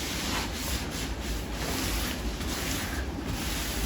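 An eraser sponge scrubs residue off a kitchen surface in a continuous, close, rough rubbing hiss with slight rhythmic swells.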